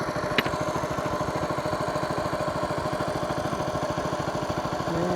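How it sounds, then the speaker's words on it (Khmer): A water pump engine pumps water into a Cambodian rice paddy, chugging close and loud in a steady rapid rhythm. The idle holds even throughout with no voices. "មានតែម៉ាស៊ីននេះមួយបូមដាក់ស្រែ"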